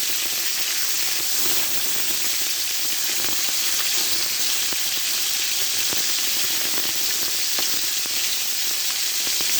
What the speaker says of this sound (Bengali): সিলভার কাপ মাছ ভেজে নিচ্ছি লবণ আর শুকনো মরিচের গুঁড়ো আর হলুদ দিয়ে